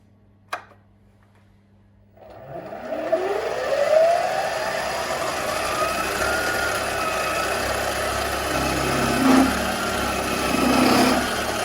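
A mini metal lathe's motor spins up with a rising whine, then holds a loud, steady high-RPM drone while cutting deeper into metal, after a short click at the start.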